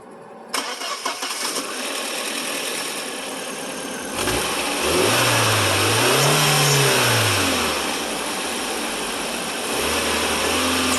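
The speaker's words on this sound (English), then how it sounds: "I'm going to go start the car now" A VW Passat fitted with new, inexpensive ignition coils cranks and catches with a sudden roar, revs up and eases back, then settles into a steady idle, close and loud, with no talking.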